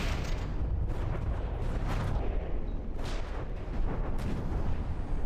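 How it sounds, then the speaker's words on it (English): Cram cannon shells exploding near aircraft in the game From the Depths, a dense run of heavy booms and blasts rolling one after another at close range, loud and continuous. "I like how the cram explosions exploding behind or close to a craft basically makes it fly up"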